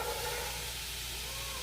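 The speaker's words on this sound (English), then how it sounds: "it's really important to listen for the sizzle" Vegetables sizzling in a pot during a water-saute for a hearty vegan stew, a steady soft hiss with faint stirring, even and close throughout with no talk.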